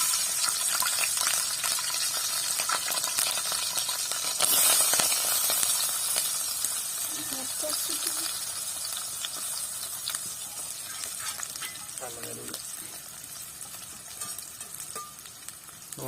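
Green chilies frying in a pan, a steady close sizzling hiss throughout with occasional stirring scrapes and clicks, no talking.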